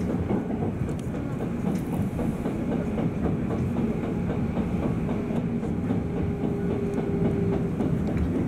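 A Tokyo Metro 13000 series train runs steadily toward Kita-senju, a continuous low rumble with rhythmic clickety-clack of wheels over track joints, close and even.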